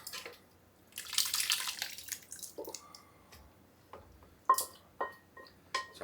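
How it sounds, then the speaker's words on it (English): Spaghetti sauce is dumped from a container into a cast iron pot, giving a run of quiet wet squelches, splats and drips that end in a few sharp, sloppy plops. "now we're going to take our spaghetti sauce and dump that in there"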